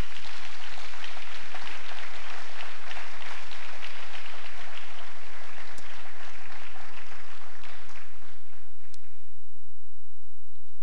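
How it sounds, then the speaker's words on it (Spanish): Church congregation clapping together for the Lord during a sermon, a dense, sustained wash of applause that fills the room for most of the stretch before fading out toward the end. "Vamos a aplaudirlo al Señor."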